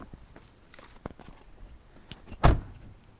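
A Dodge Charger's door opens and then thumps shut with one loud close bang, preceded by faint rustling and movement as the driver climbs out.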